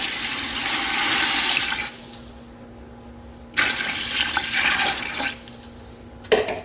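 Chicken broth pours into a soup pot already holding bay leaves, two strong splashing pours with a short quiet pause between, liquid rushing loudly and close.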